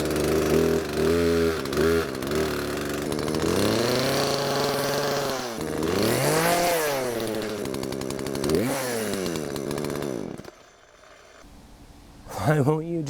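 A chainsaw engine mounted on a Power Wheels RC toy car revs close and loud in repeated rising and falling bursts, sputters down to near quiet, then snarls back up at the end.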